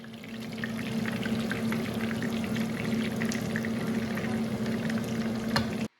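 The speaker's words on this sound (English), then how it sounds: "You guys can hear the nice sizzle here." Steady crackling sizzle of a thin, pounded, breaded chicken cutlet frying in a pan, with a low hum underneath and scattered pops, ending abruptly.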